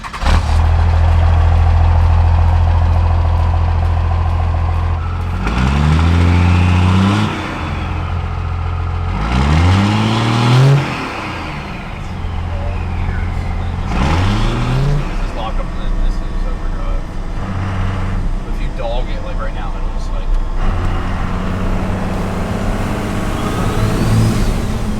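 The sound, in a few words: compound turbo 12-valve Cummins OBS Ford truck starting and driving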